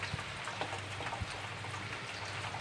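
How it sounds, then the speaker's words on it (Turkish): Steady sleet, rain mixed with snow, patters down continuously, a dense hiss of drops striking surfaces nearby, with no voices. "Şu anda karından karışık yağmur yağıyor."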